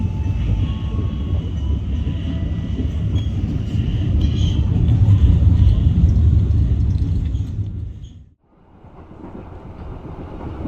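Steady loud rumble of the KA Motis long-distance train on the rails near Jabodetabek, heard from inside the carriage, with a deep low roar that drops away briefly near the end and then returns.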